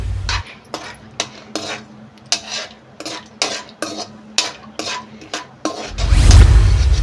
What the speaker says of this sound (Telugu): జీడిపప్పు గోల్డెన్ కలర్ వచ్చేదాకా వేపుకోవాలి